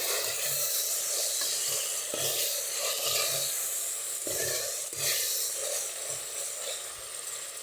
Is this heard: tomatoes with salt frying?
yes